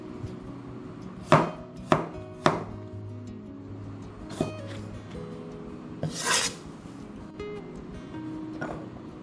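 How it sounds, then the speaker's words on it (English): A knife chops garlic sharply on a board, three quick strikes followed by a few scattered cuts and some scraping, close and clear. "I'm chopping the garlic up for easy pounding."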